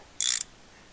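A ratchet wrench working on soaked exhaust bolts of a 1956 Ford Fairlane gives a single brief, bright metallic ratcheting burst, close and fairly loud, then quiet.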